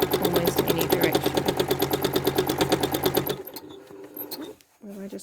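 A sewing machine quilting straight back-and-forth lines runs loud and close in a steady rapid stitching rhythm for about three seconds, then stops, leaving quiet handling noises and a brief voice near the end.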